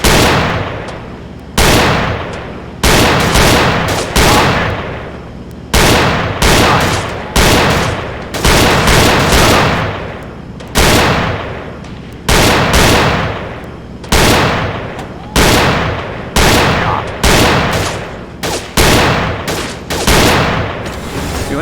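Rapid bursts of gunfire from the VR shooting game Gun Club VR, sharp loud shots in quick clusters with brief pauses between volleys, continuing steadily throughout.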